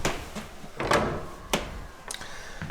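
The door of a room in a very old inn is opened, giving a few creaks, knocks and thuds of the wood and latch, moderately close, with no talking.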